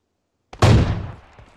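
A single loud gunshot in the mobile battle royale game PUBG Mobile on the Miramar map, a sharp close blast after silence with a booming tail that fades over about a second.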